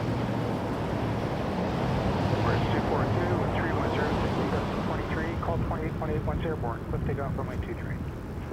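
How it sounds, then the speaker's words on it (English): An Emirates airliner rolls for takeoff at Toronto Pearson Airport, a steady, loud broadband jet roar with wind buffeting and faint background voices partly over it, rising and falling gently throughout. "Emirates cleared for takeoff."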